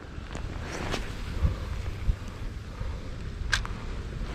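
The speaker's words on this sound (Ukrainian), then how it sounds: "Присутній боковий вітерець" A crosswind blows over open water while fishing from a boat, a low, steady rumble of gusts across the microphone with a couple of faint thumps.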